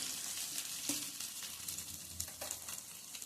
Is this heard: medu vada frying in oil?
yes